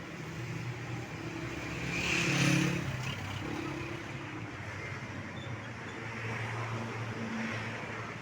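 A used 1999 Honda Civic with a 2000 cc engine running, a steady low engine hum with a brief swell like a light rev partway through, then settling back.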